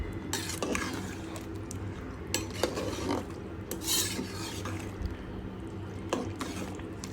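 A chicken biryani mixture with water being stirred in a pot, heard as close rasping scrapes and a few sharp metallic knocks of the spoon against the pot, with no talk.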